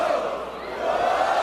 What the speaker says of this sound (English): Listen at the crowd.